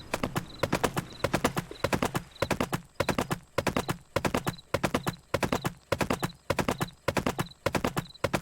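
A pony named Faraday trots in the video game Pumpkin Days, its hooves clip-clopping in a steady, even rhythm that stays loud and close throughout, with no talking.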